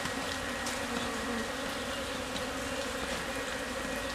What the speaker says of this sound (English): what bees getting their little old cleansing flight looks like